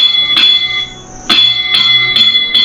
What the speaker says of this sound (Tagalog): You have the 3 distinct strokes of the bell on the forward, which is 3.